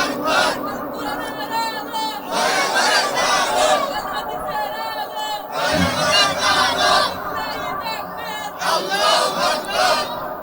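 A crowd at an Islamic mahfil gathering in Cox's Bazar roars takbir responses in loud surging waves, alternating with a voice leading them.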